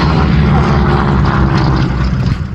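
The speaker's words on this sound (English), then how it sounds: "if you look left, you'll see our P-36 taking down a Zero" A WWII-era propeller warplane, a P-36 among reenactment aircraft at an airshow's Pearl Harbor reenactment, drones loudly and steadily overhead, a dense rumbling engine roar that holds throughout and eases slightly at the end.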